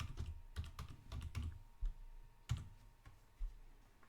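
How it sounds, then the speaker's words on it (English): Typing on a computer keyboard, a few quick close keystrokes at first, then sparser single clicks and a couple of heavier key presses in a quiet room. "we're going to type disk part"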